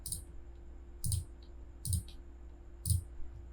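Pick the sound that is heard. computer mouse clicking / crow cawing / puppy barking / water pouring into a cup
computer mouse clicking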